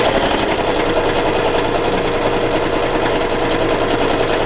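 A sewing machine runs by accident with a steady, loud mechanical whir that holds unbroken for the whole stretch, close by and with no one talking.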